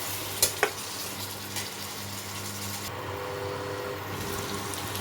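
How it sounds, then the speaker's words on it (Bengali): Drumstick stems and potato frying with spices and coriander powder in a pan, stirred, giving a steady close sizzle with two sharp utensil clinks near the start and no talk. "এবার আমি এর মধ্যে ডাঁটাগুলো দিয়ে দেবো, দিয়ে ভালো মতো কষাতে হবে।"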